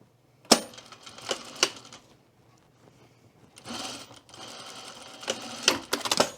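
A sewing machine stitches along a skirt vent edge in short bursts, with rapid close mechanical rattling separated by quiet pauses and a few sharp clicks.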